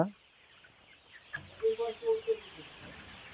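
A few short clucks from chickens, close by, in a quick cluster after a quiet stretch.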